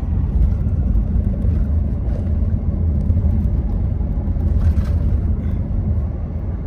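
A 2023 Ford F-350 Super Duty pulling a big trailer uphill gives a steady, deep engine rumble and low road drone from inside the cab, with no talk.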